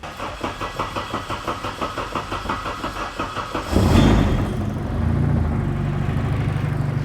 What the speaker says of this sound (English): it's idling really low